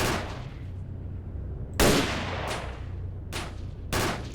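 Gunfire in the video game S.T.A.L.K.E.R.: Shadow of Chernobyl: several sharp, loud shots at irregular intervals, each cutting through a low, steady background hum and trailing off in a short echo.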